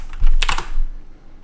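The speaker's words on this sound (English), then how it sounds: "Type slash plot." A few quick keystrokes clatter on a computer keyboard as a short command is typed, close and distinct, then stop.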